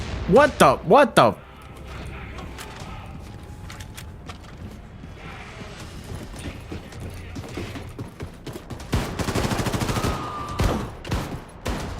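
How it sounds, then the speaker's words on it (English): Gunfire in the robot shooter Akimbot, with scattered rapid shots and mechanical clanks building into denser bursts near the end, moderately loud, beneath intermittent voices and game effects. "Who's shooting me?"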